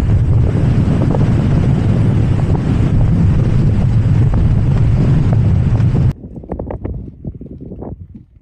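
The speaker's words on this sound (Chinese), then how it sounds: "逆风" Strong headwind buffets the microphone on a cycling trip through open grassland pastures, a loud continuous rumbling roar that cuts off abruptly near the end, leaving quieter gusty rustling.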